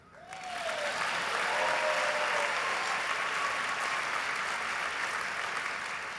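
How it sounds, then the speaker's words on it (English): Applause rises quickly from a crowd at a Boys and Girls Club Hall of Fame 25th anniversary gala, many hands clapping in a broad, sustained roar that holds steady throughout. "That's an opportunity for you to clap."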